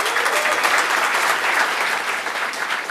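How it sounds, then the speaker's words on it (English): An audience applauding at a developers' unconference event, a dense, steady round of clapping that fills the whole stretch without letup. "I think all of us can extend a warm round of applause as thank you for this event."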